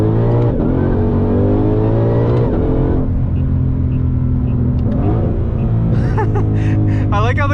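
Ford Mustang GT500 engine roars loudly from inside the car, revving up with rising pitch, dropping into a quick downshift, then pulling hard again as the steady heavy rumble continues throughout.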